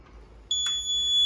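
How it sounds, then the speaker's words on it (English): A CMR LD8-2 leak detection panel alarm starts abruptly, a loud, steady high-pitched electronic tone sounding continuously after a brief quiet moment. "we will put the panel into alarm just to check the valve control working"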